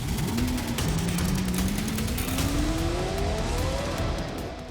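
A sports car revs hard on Delhi streets at night, its engine note climbing steadily in pitch through a long sustained pull, loud and close throughout with no voices.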